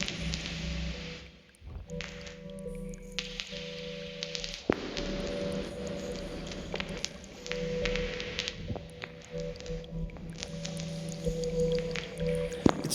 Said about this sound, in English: It's the frequencies of this water sound that they kind of jump through the mix